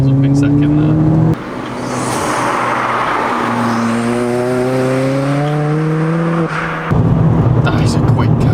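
A Ford Fiesta ST Stage 3 winds up along a twisty road, engine note climbing loudly through the revs, easing briefly at a gear change, then pulling hard again in rising harmonic sweeps, heard from inside the cabin.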